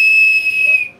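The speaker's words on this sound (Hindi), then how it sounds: "साथ में इसमें विसल भी है" Whistle built into a camping multi-tool, blown in one steady shrill blast lasting most of a second, loud and close, then cut off.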